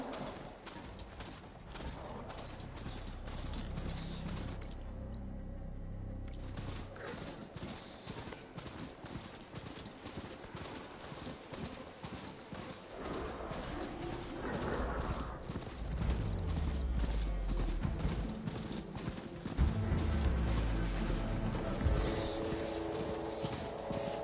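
Horse hooves clip-clop steadily in a video game, a regular close rhythm over ambient game sound, with a brief dip partway through.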